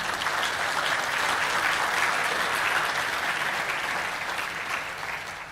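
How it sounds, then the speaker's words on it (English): A large audience claps at a live satsang in Kashi, producing a dense, continuous roar of applause that holds steady and then eases slightly toward the end. "All of you clapping"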